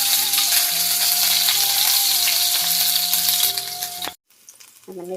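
Cumin seeds and green chili sizzle in hot oil in a pan for spicy masala Maggi, a loud, steady frying hiss over background music that cuts off abruptly, followed by a short quieter sizzle.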